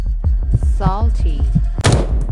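Sniper rifle shots boom out in a 3D sniper video game, several sharp reports over a steady low rumble of game music and ambience, with a voice line briefly heard in between and a final louder burst of noise.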